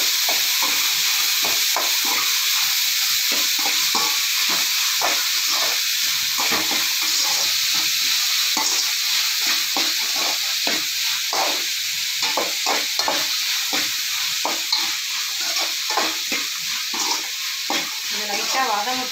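Food sautés in oil on a hot dosa griddle with salt added, a steady broad sizzle running throughout with frequent scraping and stirring clicks from a spatula, close and fairly loud, no talking.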